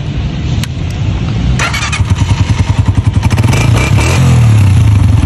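A 2024 Honda 125 Gold Edition motorcycle engine starts with a clatter, settles into a loud, pulsing idle close up, then revs steadily higher.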